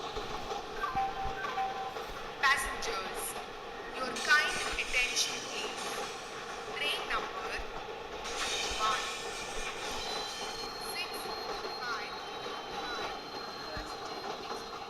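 A train rolls toward Arakkonam on its way for repair, a steady low rumble of wheels on track with occasional squeals and clanks, heard from on board, fairly quiet and continuous.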